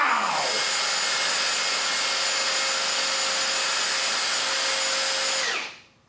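Compact brushless impact drivers, a DeWalt Atomic DCF809 against a Milwaukee 2850, whir at high speed in one steady loud run of about five seconds before cutting off and winding down, with no talk.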